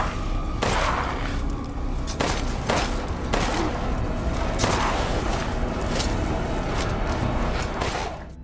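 Meaty first-person gunfire from the horror action game Resident Evil Village, a dense, continuous volley of shots with repeated heavy blasts cutting through over about eight seconds, loud and close with no talking.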